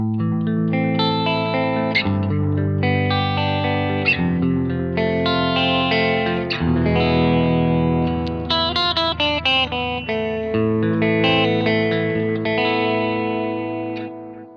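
Electric guitar played through a JOYO R-10 Nascar bucket-brigade delay pedal with all settings centred, chords and melodic lines trailing soft, warbling repeats and gentle modulation, loud and alone.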